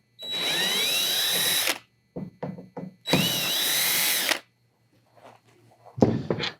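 A power drill backs out two screws holding a handle mount on a MirageDrive 360 steering system, two long whirring runs separated by short clicks and knocks, then a brief final burst.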